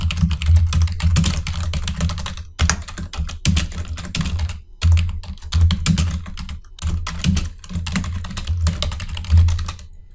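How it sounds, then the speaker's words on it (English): Fast typing on a computer keyboard: dense, close key clatter in quick runs, broken by a few brief pauses, with no talking. "I'll type that heading and hit enter once."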